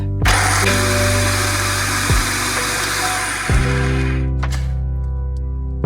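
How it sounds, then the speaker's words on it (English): A food processor blends chickpea blondie batter, a loud, steady electric motor whine that starts abruptly, shifts pitch slightly as the load changes and runs continuously, with no talking. "so that's going in the food processor. And we're gonna put the lid on. And we're just going to blend this until it is completely smooth."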